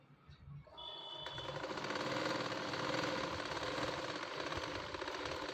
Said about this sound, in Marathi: दाब शिलाई टाकते बघा, अशा पद्धतीने दाब शिलाई टाकून घ्यायची